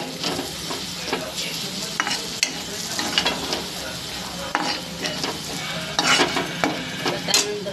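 Cooked moth beans with turmeric and homemade black masala are stirred in a pan, close, lively scraping of a spoon against metal over a light sizzle, with irregular clinks that grow busier toward the end.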